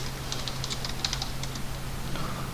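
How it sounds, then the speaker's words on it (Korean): Keyboard keys and mouse buttons pressed while working in CAD software, a quick run of light clicky taps close by over a steady electrical hum, fading toward the end. "다시 엔터 한번 치고 클릭 클릭 클릭 클릭 엔터 한번 치고 클릭 클릭"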